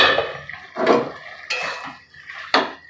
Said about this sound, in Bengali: দেখি বন্ধুরা ঢাকাটা খুলে কত দূর হলো